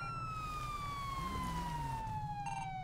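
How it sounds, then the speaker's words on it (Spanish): Police siren in the GTA V video game, a steady sustained tone slowly falling in pitch over a constant low engine rumble, moderately loud throughout with no talk. "Vale, apaga la sirena."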